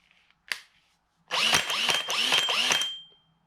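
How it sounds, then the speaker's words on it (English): A power drill bores a hole for a bilge pump outlet during boat hardware fitting, a click followed by a close, loud whirring burst of about two seconds with slight pulsing as the bit cuts, then stopping. "I'm going to drill the hole."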